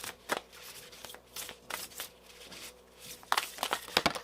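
A deck of tarot-style reading cards is shuffled by hand in a series of quick riffles and soft slaps, close and crisp, with irregular bursts and brief pauses between them, no one speaking.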